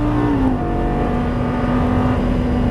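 A Lamborghini Gallardo LP550-2 engine roars loudly at full throttle on a racetrack, its pitch dipping briefly during an upshift, then holding a strong drone.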